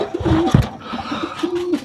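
Pigeons in a loft coo in low, soft, throaty murmurs, close by, with a brief rustle of wings or movement in between.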